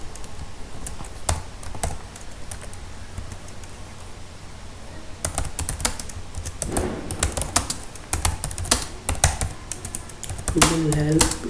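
Fingers type on a computer keyboard while entering a module summary in Odoo, starting in scattered taps, easing off briefly, then returning in dense rapid bursts as a voice speaks briefly at the end.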